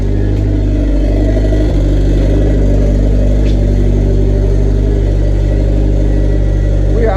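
Turbocharged Ford Escort RS2000 engine running with a steady low rumble and mid-range revving, loud and continuous throughout, with a brief louder rev early on and no talking.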